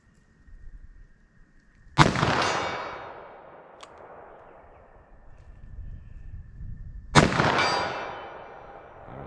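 Two sharp, loud .357 Magnum revolver shots fired into ballistic gel outdoors, each a sudden crack followed by a long ringing echo, spaced about five seconds apart over a steady faint hum.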